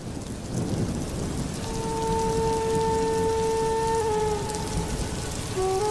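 Heavy rain pours steadily on a surface with thunder rumbling beneath it, while a faint sustained tone rises and holds over the storm; no one speaks.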